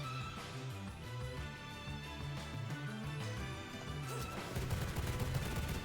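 Gunshots fired at a bear in V Rising, a dense run of sharp reports layered over game music and ambience, moderately loud and continuous, growing busier and noisier toward the end.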